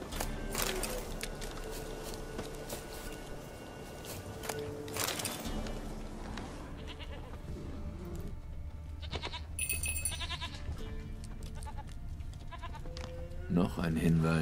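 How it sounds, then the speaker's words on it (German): A goat bleats in The Witcher 3: Wild Hunt, a few short, clear bleats late on, set over a bed of game ambience and a voice. "Die Ziege doch gehört."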